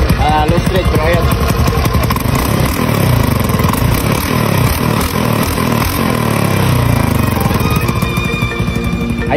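A Honda Beat scooter with a 55mm setup idles and burbles steadily through the exhaust, a continuous low rumble with light revs, close by throughout.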